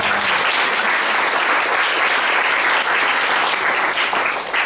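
Loud, sustained applause from a large crowd at a church seminar in Sentani, Jayapura, Papua, dense and steady throughout with no pauses.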